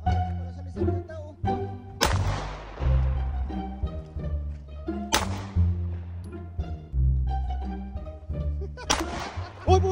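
Gunfire at an outdoor shooting range in Concrete, Washington: three loud, sharp shots spaced a few seconds apart, each ringing out with a long decaying echo, over a steady low rumble and background noise.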